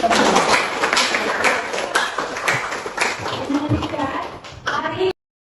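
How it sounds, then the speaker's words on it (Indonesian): Applause from students in a physics classroom, a scattered patter of many hands clapping for several seconds with voices mixed in, then stopping abruptly. "ya tepuk tangan teman-teman kamu"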